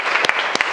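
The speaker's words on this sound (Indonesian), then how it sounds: "Tepuk tangan untuk semua." Brief burst of classroom applause during an agribusiness plantation-crops lesson, a short patter of clapping that fades quickly.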